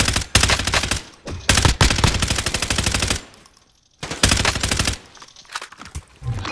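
Rapid bursts of automatic gunfire in a video game, several dense volleys separated by brief pauses, loud and close.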